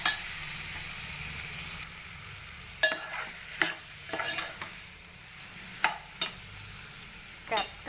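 Capsicum frying in a pan gives a steady background sizzle, broken by several sharp, close scrapes and clinks of a spatula as it is stirred.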